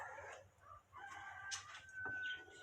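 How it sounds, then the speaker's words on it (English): Roosters crow outdoors, faint and somewhat distant, with one drawn-out call and a few shorter clucking calls over a quiet background. "Hear the roosters?"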